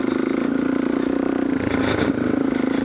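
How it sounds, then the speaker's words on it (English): A big-bore, bored and stroked Kawasaki KLX470 dual sport motorcycle idles close by with a steady, throbbing grunt and a slight flutter near the end. "if you just like to hear the grunt of a big old bored and stroked dual sport bike, here we are"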